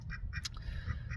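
Asian-breed laying ducks quack in several short, close bursts, a few separated calls spread across a steady low background rumble.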